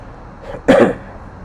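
A single short, sharp cough in a lecture room, close and fairly loud, preceded by a faint breath and then quiet room tone.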